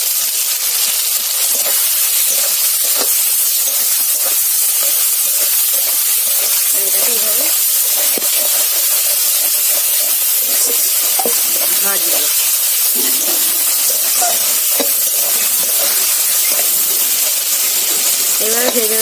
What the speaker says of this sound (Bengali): এবার টমেটোগুলো এইভাবে ভাজতে ভাজতে কাঁচা টমেটো গলে যাবে